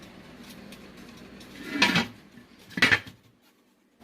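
A pot of yam and plantain porridge being covered, with two distinct metallic clanks of a lid settling onto the pot after a quiet stretch.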